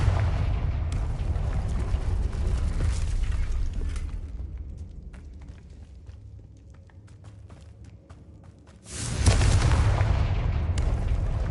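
Spell explosions from the Confringo fire spell in Hogwarts Legacy, heavy booming blasts that fill the opening seconds, fade to a quieter stretch of scattered pops, then erupt loudly again near the end.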